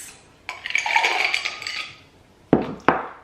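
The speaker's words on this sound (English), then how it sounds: "Then I'm gonna add my ice." Ice goes into a glass of matcha with honey and hot water. A rattling, clattering pour is followed by two sharp, close clinks of ice against the glass.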